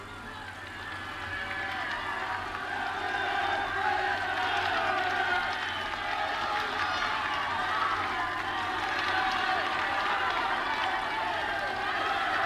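Large roadside crowd of spectators on a Tour de France mountain climb, a dense continuous roar of cheering and shouting that swells and holds steady throughout, with no single voice standing out.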